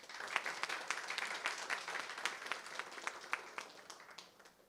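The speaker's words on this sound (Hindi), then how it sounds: "इनके लिए खास जोरदार तालियां" Dense, steady applause from an audience at a Father's Day celebration event held by a news channel, many hands clapping continuously with no voices over it.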